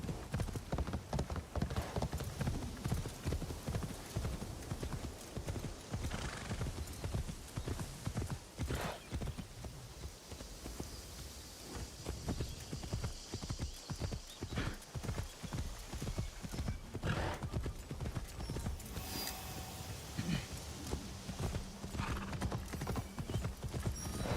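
Horse hooves clip-clop in a continuous fast gallop in the video game Assassin's Creed Shadows, with occasional neighs and a dense game soundscape underneath.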